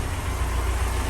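Steady low rumble of a Ford Sierra Cosworth engine idling nearby, an even mechanical drone with no voices.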